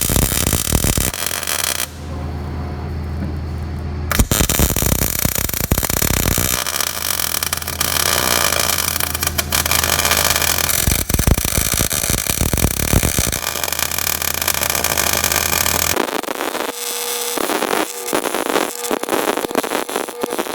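Arc welding a bead around a lock nut, a loud, continuous crackling hiss that runs for long stretches with brief breaks and shifts in intensity.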